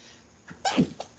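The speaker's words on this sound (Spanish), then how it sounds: "Perdón, que me dio una estornudera." A single sharp sneeze bursts out close by, preceded by a quick inhale, breaking the quiet of an operating room during a cesarean delivery.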